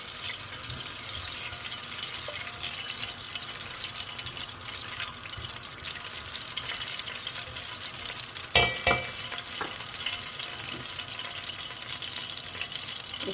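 Cardamom pods fry in desi ghee for degi zarda sweet rice, making a continuous even sizzle with a pair of sharp metallic clanks partway through.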